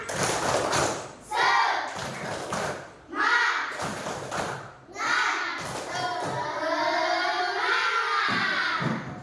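A classroom of children performs a rhythmic clapping chant before a coding lesson, bursts of clapping and shouted syllables coming in short patterned phrases with brief pauses, ending in a longer sung-out cheer.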